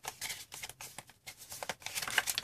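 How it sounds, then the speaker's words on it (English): Development cards of the Zombie In My Pocket board game being shuffled by hand, a quiet series of soft papery riffles and slaps in an irregular rhythm, close and alone. "Shuffle the development cards again."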